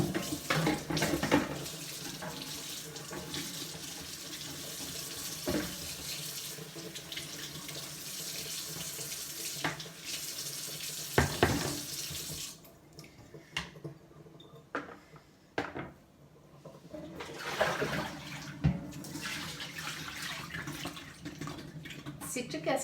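A tray is washed in warm water at a sink, with a running faucet gushing and splashing, occasional clatters of the tray, and brief pauses where the flow stops; a person talks intermittently.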